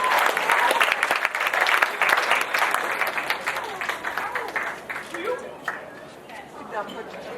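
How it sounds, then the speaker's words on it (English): Wedding guests applaud the bride and groom, a sustained round of clapping from a crowd that fades gradually, with voices talking over it. "why don't we give them a big round of applause?"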